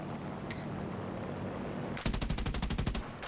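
Aircraft machine guns of an XP-38G in the video game War Thunder fire a rapid, evenly spaced burst of about a dozen loud shots after a stretch of steady engine drone.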